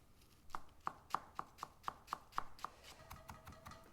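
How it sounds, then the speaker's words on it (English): A knife finely chops flat leaf parsley on a board, about nine crisp, evenly spaced taps in a quick steady rhythm that fade into softer scraping at the end. "which I'm just gonna finely chop"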